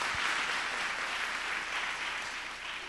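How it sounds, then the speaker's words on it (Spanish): A church congregation applauds during a worship service, a soft, steady wash of clapping heard from a distance, continuous and even with no voices over it. "Démosle fuerte ese aplauso al Señor."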